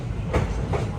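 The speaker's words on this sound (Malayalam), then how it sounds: "ട്രെയിൻ ഇതാ ഗുവാഹട്ടി റെയിൽവേ സ്റ്റേഷനിലേക്ക് എത്തിക്കൊണ്ടിരിക്കുകയാണ്" The Nagaland Express train pulls into Guwahati railway station with a steady, close, low rumble and a faint rolling clatter of wheels. The sound swells slightly twice during the brief moment.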